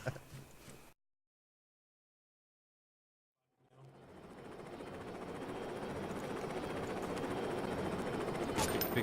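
A helicopter flies in a video game. After a short burst of game noise and a few seconds of silence, a steady rotor and engine roar fades in and grows gradually louder, filling the rest of the clip.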